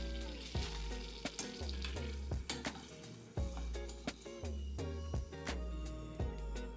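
Beef empanadas fry in oil with a soft sizzle under a low steady hum, broken by repeated sharp clicks and taps of a utensil against the pan.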